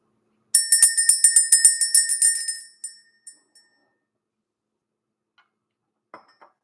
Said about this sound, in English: We're going to ring the bell this morning, clear out this energy